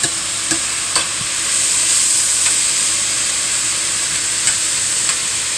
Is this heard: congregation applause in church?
no